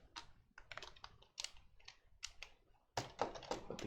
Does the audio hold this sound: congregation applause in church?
no